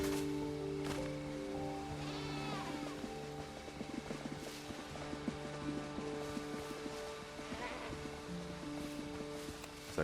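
Goat bleats in the video game Windrose, a wavering cry over a dense bed of game music and ambient noise, with a voice talking through much of it.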